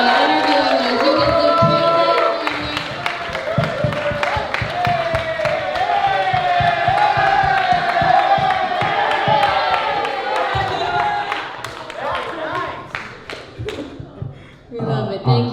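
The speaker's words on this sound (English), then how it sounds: "let's give a round of applause for Clipper coming in here and doing this for me" An audience at an album release party breaks into sustained applause and cheering, a dense crowd roar with clapping and shouting voices that fades toward the end.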